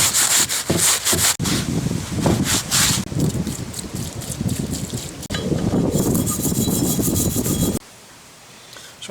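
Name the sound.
wiping metal crank disk with mineral spirits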